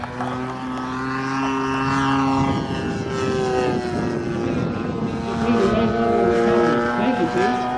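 A model aircraft's propeller engine flying overhead, a steady buzzing drone that shifts in pitch as it passes, fairly loud and continuous throughout.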